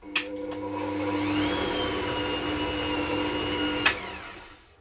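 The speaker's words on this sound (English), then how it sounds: "I'm going to mix that on a low speed until it's creamed together nicely." An Ankarsrum stand mixer creams butter and sugar for Swedish caramel cookie dough on low speed, giving a steady, close motor hum with a smooth whir throughout and a couple of brief knocks at the start and near the end.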